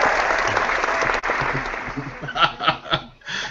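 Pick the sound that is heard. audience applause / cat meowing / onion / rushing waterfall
audience applause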